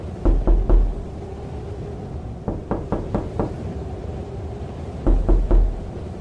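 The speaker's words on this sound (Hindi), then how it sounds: "अचानक उनको लगा कि किसी ने उनके घर का दरवाजा खटखटाया" Three sharp knocks on a wooden house door, repeated in three separate bursts over a low, steady background hum, close and fairly loud in a quiet, cold night setting.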